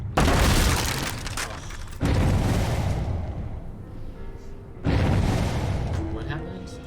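In the Dead by Daylight video game, deep booming blasts from a generator repeat three times with long decaying rumbles between them, loud and heavy, while people talk in the background.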